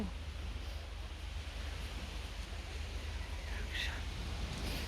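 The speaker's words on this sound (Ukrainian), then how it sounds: "І от воно прекрасне море." Sea waves wash onto a wild beach near a nature reserve, a soft continuous surf rush mixed with wind, faint and steady throughout.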